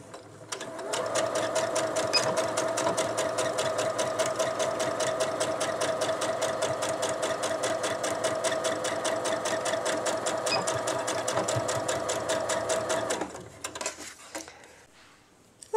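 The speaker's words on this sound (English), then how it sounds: "Just sew this right along this edge right here." A sewing machine runs steadily for about twelve seconds, stitching along the edge of a fabric face mask with backstitching, a continuous close buzzing whir that stops abruptly near the end.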